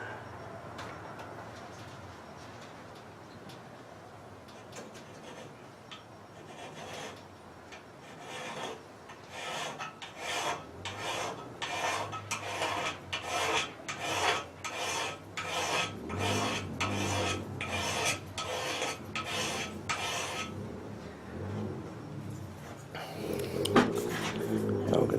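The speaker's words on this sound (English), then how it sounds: "So if we're going to file this knife like that" Metal file rasping along a custom knife blade clamped in a flint-and-steel knife kit, repeated steady strokes in a regular rhythm, close and fairly loud, growing stronger toward the end.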